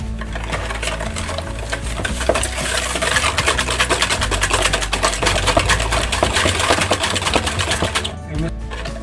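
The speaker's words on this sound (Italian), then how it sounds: "E mescoliamo per circa 3 minuti" Whisking eggs and sugar together in a bowl for an apple cake batter, a steady busy scraping and clattering churn that runs continuously, close and fairly loud, easing off near the end.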